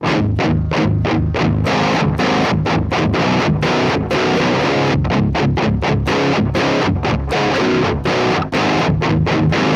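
A heavily distorted, low electric guitar tone through a Neural DSP Mesa Boogie Mark IIC+ amp model, played loud and continuous, with rapid rhythmic chugging notes and dense, fuzzy saturation throughout.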